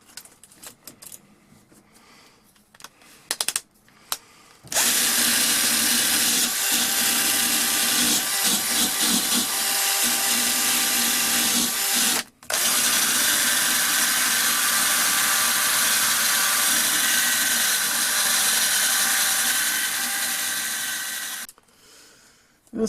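A cheap wire wheel spun by a Craftsman drill scrubs rust off a vintage hand drill, a loud continuous grinding whir that starts after a few handling clicks, breaks off briefly, then resumes and stops.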